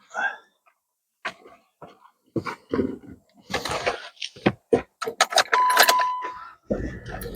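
Car keys for a Jeep Patriot jingle in a string of short, separate metallic shakes and rattles, close by, with quiet gaps between bursts and a longer jangle near the end.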